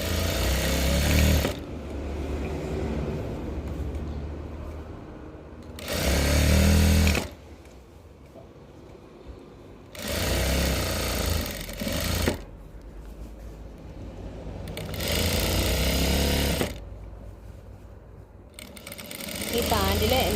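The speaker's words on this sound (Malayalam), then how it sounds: "ആദ്യം നമ്മളിത് കംപ്ലീറ്റ് ആയിട്ടൊന്ന് മടക്കി അടിച്ചു കൊടുക്കുക." Domestic sewing machine stitching a folded hem on cigarette pants, running in four bursts of about two seconds each, separated by short pauses, near and fairly loud.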